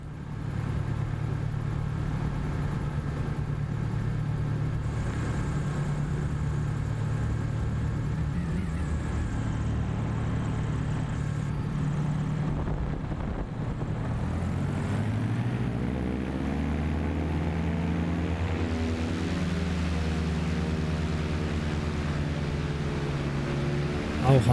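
The Hangar Studios Camair 480 twin-prop aircraft in Microsoft Flight Simulator 2024 drones steadily through a landing replay, its engine hum holding constant before the pitch sweeps and shifts partway through, with a person talking over it.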